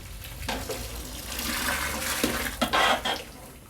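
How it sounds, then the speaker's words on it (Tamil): Water pouring into a pot of Tirunelveli-style chicken salna, a soft steady splashing trickle close by, swelling briefly toward the end. "தண்ணி சேர்த்துறோம்."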